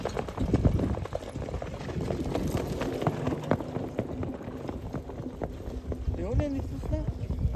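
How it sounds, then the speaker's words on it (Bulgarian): Horses galloping in a village horse race in Brest, Bulgaria, heard as a steady rumble of hoofbeats under crowd noise and voices, with people talking throughout. "Състезание с коне сме стартирали с коне."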